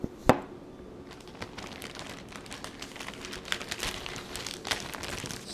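Plastic bag crinkling as a raw red snapper fillet is dropped in and handled, with a sharp rustle at the start followed by steady soft crinkles and small crackles, close and fairly quiet.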